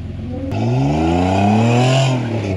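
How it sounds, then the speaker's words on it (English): An off-road rig's engine roars up under throttle on a rocky boulder-field trail, pitch climbing steadily then easing off, loud and close. "It's the first time we've heard the throttle today."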